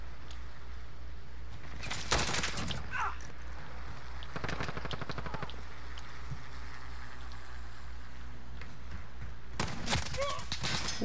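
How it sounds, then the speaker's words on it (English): Gunfire crackles in Call of Duty: Modern Warfare, with several loud bursts of automatic fire at steady intervals and bullets whizzing past, over a constant low background rumble. "Bullets fucking whizzing past my backside."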